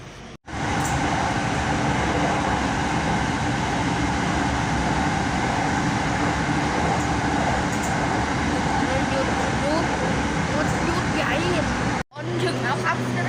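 Steady rumble and rattle inside a Bangkok skytrain car riding toward its terminal station, with a constant loud drone, faint passenger chatter in the background and a brief cutout near each end.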